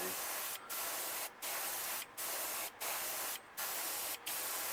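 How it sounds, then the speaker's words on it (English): Short airbrush bursts of Antelope Brown paint sprayed lightly onto a bluegill-pattern crankbait lure, a steady hiss repeated about seven times with brief pauses between. "I'll spray some Antelope Brown, which is part of that ink again. Just lightly spray."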